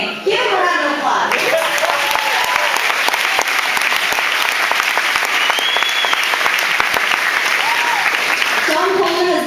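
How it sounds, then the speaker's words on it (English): Round of applause from the audience at a fruit festival's opening ceremony at a summer camp: loud, dense, continuous clapping that bursts in after a voice and runs on, with a voice returning at the end. "Give him a round of applause."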